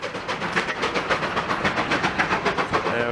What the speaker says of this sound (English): we got the open car trains here